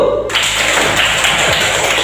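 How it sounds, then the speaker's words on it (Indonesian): Schoolchildren in a classroom clap together for a classmate's correct answer, a dense burst of many overlapping claps, close and loud, starting abruptly and continuing steadily. "Beri tepuk tangan untuk beliau"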